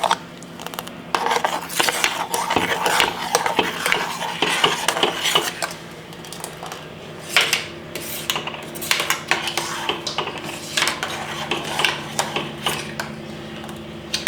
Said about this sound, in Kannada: ಈಗ ಸಕ್ಕರೆನ ಹಾಕಿ ಮಿಕ್ಸ್ ಮಾಡ್ಕೊಳ್ಳೋಣ